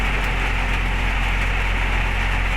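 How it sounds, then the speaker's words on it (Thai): Rain falls at a six-wheel truck work site, a steady close hiss over a low, constant engine rumble, with no voices. "ฝนตกเลยครับ"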